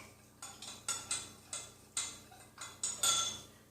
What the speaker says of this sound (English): So I'm just going to throw that in. Give it a bit of a stir.